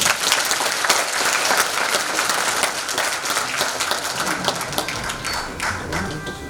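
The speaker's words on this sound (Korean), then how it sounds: "다시 한번 힘찬 박수 부탁드립니다" A crowd at an outdoor political rally claps loudly and continuously after a speech, a dense wash of applause with scattered thumps and taps.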